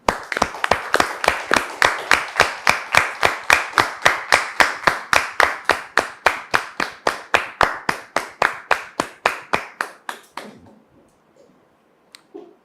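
Studio audience on a French talk show applauds with steady, rhythmic unison claps, loud and even, for about ten seconds, then stops abruptly, leaving a near-silent room.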